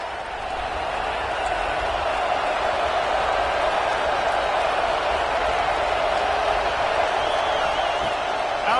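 Stadium crowd noise roars continuously at a football game, a loud, dense, sustained wall of voices that stays even throughout with no break.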